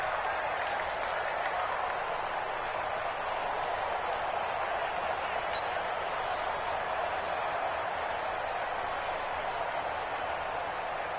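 A stadium crowd roars continuously during a football video game match, a dense, loud, unbroken wash of cheering noise filling the whole stretch with no distinct voices.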